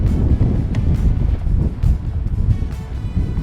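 Strong wind buffets the microphone on a snowy mountain slope at a Jackson Hole snowmobile hillclimb, a loud, continuous rumbling roar with gusting surges and no voices.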